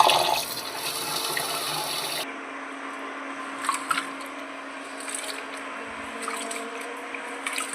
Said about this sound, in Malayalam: പിന്നെ ഇത് കഴുകിയിട്ട് ഊറ്റിയെടുക്കാം.